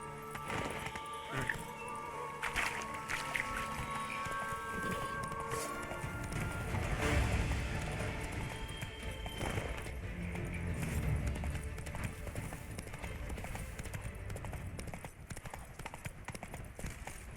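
Horse hooves galloping in The Witcher 3, a fast, steady clip-clop rhythm continuing throughout at close range, with ambient wind and faint game sounds underneath.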